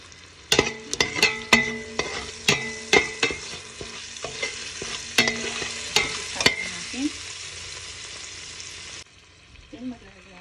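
A utensil stirs chicken feet in a sizzling pan, with a rapid series of sharp metallic taps and scrapes over constant frying hiss. The activity eases near the end, where a voice briefly comes in.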